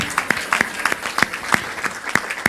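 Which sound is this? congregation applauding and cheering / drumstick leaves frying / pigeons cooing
congregation applauding and cheering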